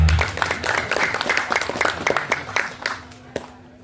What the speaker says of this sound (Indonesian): Tepuk tangan dulu buat panitia